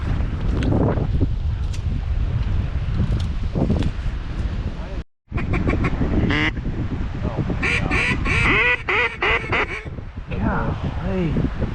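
Ducks, including pintails, quacking outdoors during a winter duck hunt in brushy cover, mixed with wind noise and rustling, with people talking over much of the clip.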